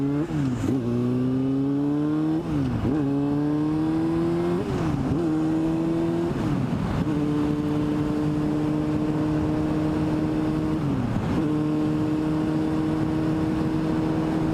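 Yamaha R6 sport bike engine under way, a loud close whining inline-four that climbs in pitch through each gear, drops sharply on several shifts, then settles into a steady cruise over wind noise.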